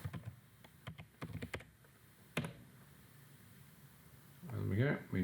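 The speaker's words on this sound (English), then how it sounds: "Type in the works order number again." Someone types a works order number into warehouse software on a computer keyboard, giving quick bursts of clicky keystrokes in the first half followed by a single sharper tap. A voice starts speaking near the end.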